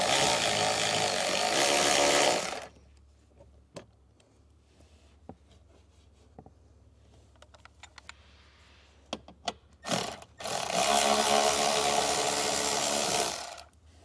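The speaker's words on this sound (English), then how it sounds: "We'll go ahead and get our socket and get those removed." Close, quick ratcheting from a socket wrench backing out 7mm screws from a dash panel in a 2023 Chevrolet, heard in two dense bursts at the start and end, with scattered clicks and handling noise between.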